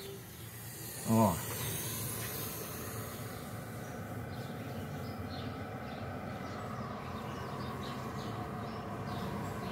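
A pump runs with a steady, even whir and hiss for the whole stretch, loud and close, with a brief voice near the start.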